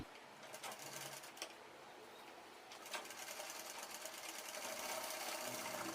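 A sewing machine stitches a kids' chudidar dress, its quiet rapid mechanical whirr running in short bursts, then continuing more steadily in the second half, close by with no talking.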